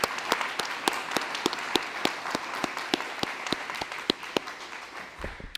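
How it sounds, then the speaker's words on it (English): A conference audience at a Respect Life event claps in sparse, distinct hand strikes. The applause is thin and fairly quiet, and it tapers off near the end. "Let's take a moment for a round of applause."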